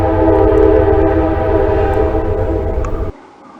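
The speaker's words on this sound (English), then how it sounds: "Here's a train whistle." A loud train horn blows a sustained, steady tone near a river, holding for about three seconds before cutting off abruptly into quieter background.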